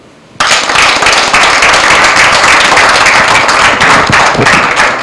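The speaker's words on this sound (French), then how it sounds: "je voudrais vous prier de l'applaudir" An audience at an evening ceremony breaks into applause, dense, loud clapping starting abruptly and continuing evenly from a crowd in a hall, with no speech over it.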